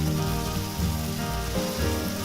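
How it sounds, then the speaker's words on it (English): Ginger-marinated pork slices spread flat in a frying pan sizzle continuously at close range, with a dense, even crackle and a low hum beneath. "Now we just let this fry until it's almost cooked through on one side."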